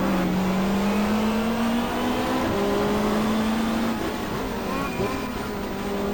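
A 1995 Australian Super Touring car, such as a Vauxhall Cavalier, races around the Gold Coast Indy street circuit in the GTR2 racing game, its engine loud and close with steady revving pitch and gear-change dips.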